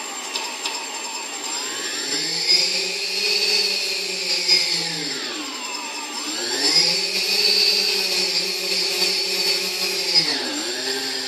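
An Arduino-controlled model helicopter's electric motor whines up under throttle, its pitch sweeping up and down in two surges with a high, buzzing tone, close and fairly loud.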